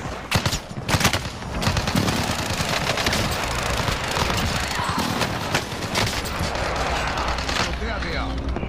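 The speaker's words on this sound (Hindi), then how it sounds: "पीछे से गोलियां पड़ी हैं" Bursts of gunfire in Call of Duty Vanguard on Rebirth Island, dense overlapping shots and fusillades throughout, loud and busy, with players talking over the action.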